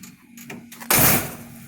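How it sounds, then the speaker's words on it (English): The door of a 1977 Cadillac rat rod shuts with a single abrupt, harsh thud near the end, preceded by faint scraping and creaking as it swings. "That is the most anti-Cadillac sound ever, the way it shuts."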